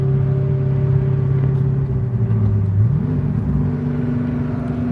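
A car engine hums steadily from inside the cabin, then its pitch drops and climbs again as it is pulled into a lower gear and accelerates, a loud, continuous drone.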